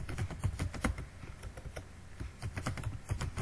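Rapid, steady keystrokes on a computer keyboard as code is typed, close and crisp, with a short pause near the middle before the clatter resumes.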